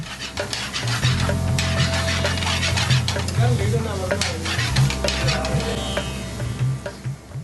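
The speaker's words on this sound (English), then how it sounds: "He mixes all the ingredients together." A spoon scrapes and stirs through chopped chicken and other ingredients sizzling steadily in a hot frying pan, close up and continuous, with occasional clinks.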